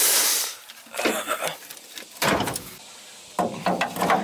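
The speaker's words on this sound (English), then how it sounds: "That door doesn't really open," A junk car's stuck door being yanked, several short metallic clunks and rattles in separate bursts with quiet gaps between, close by.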